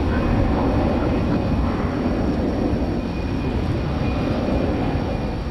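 Airbus A319 airliner at DFW Airport at night, a steady, loud broadband engine roar that holds level and unbroken, with no one talking over it.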